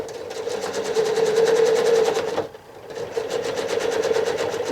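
Sewing machine travel stitching across a quilt, running in a fast steady whir with rapid needle pulses, pausing briefly midway before resuming, close and alone.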